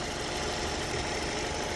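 A Hyundai Creta engine idles just after starting, a faint, even, steady mechanical hum with no talking over it.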